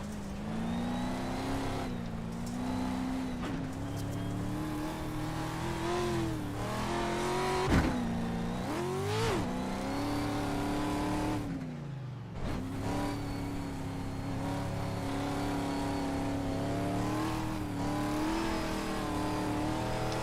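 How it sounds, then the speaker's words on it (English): Simulated NASCAR racing truck engine from a NASCAR racing video game, revving hard and continuously on the track, with a loud steady drone whose pitch rises and falls through gear changes and cornering, with no talk over it. "I am driving this truck about as hard as I can"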